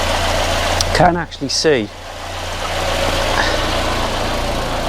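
A Volvo 480 engine idling steadily after an exhaust repair, a low continuous drone with a voice talking briefly over it near the start.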